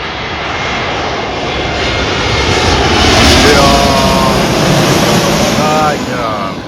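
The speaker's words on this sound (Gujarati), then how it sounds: "જો મસ્ત મોટું છે એર ઇન્ડિયાનું પ્લેન" A large Air India airliner passes overhead with a broad engine roar that swells to a peak midway and then eases, while voices speak nearby.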